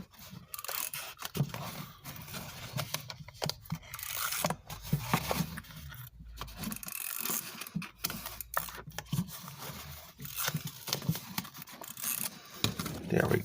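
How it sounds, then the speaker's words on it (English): Paper craft pieces for an Easter basket being burnished down by hand, quiet close-up rubbing and scraping strokes repeated in irregular bursts for over ten seconds with no talking. "Burnish down real well."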